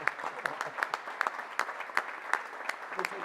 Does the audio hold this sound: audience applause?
yes